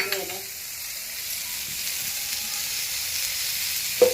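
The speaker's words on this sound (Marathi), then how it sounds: "हे बघा माझं कारलं परतत आलेलं आहे" Bitter gourd (karela) frying in a pan for dal karela, a steady soft sizzle and hiss close by, with a faint clink near the end.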